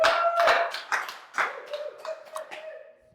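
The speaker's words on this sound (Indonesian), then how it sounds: "boleh tepuk tangan nggak apa-apa, tepuk tangan dulu" A short burst of applause, with several sharp claps and a few quicker ones that thin out over about three seconds.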